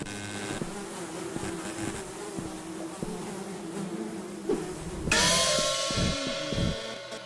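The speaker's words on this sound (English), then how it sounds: "her rotting, decaying corpse is drawing in the entire population of flies from all of Indonesia" Swarm of flies droning around a rotting corpse in the game Babbdi, a close, persistent buzz that surges louder and brighter partway through as more insects crowd in.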